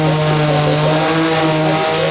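Drag race cars at the 2015 WinterNats SuperStreet class, engines roaring loud and steady at full throttle with a constant high-pitched drone and no talk.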